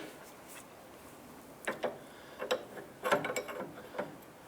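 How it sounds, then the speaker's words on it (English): Tightening a tie rod jam nut on a 2011-2019 Ford Fiesta gives several short ratcheting bursts after a quiet start, with a few spaced clicks in the middle and a denser run of clicks toward the end. "Let's go ahead and tighten down our jam nut."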